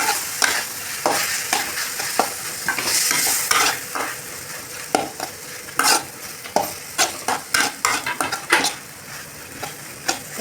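Chopped tomatoes sautéing in oil for a chicken kulambu, a steady sizzle broken by frequent close spatula scrapes and taps against the pan, quickening into a rapid run of strokes, with no talking.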